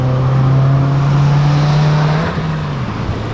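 Subaru WRX with a widebody kit pulls hard under acceleration, its loud, close exhaust drone rising steadily in pitch before easing off, with rumbling crackle as the throttle lifts.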